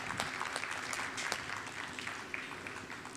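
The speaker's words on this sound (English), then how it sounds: "let's give the team a big round of applause for that" An audience at a glassblowing demonstration applauds after a stage of the piece is completed, a dense, continuous round of clapping heard somewhat distant and soft against a roomy background, with no speech over it.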